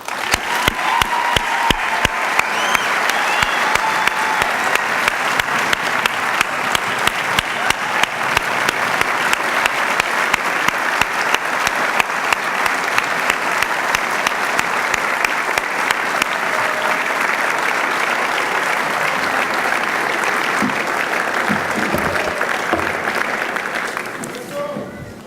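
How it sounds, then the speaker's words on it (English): Long, loud applause from a medical school commencement crowd for families and mentors, a thick continuous roar of clapping with some rhythmic emphasis that holds steady before tapering off at the very end. "Please join me in a round of applause for all of our families, loved ones, friends, and mentors"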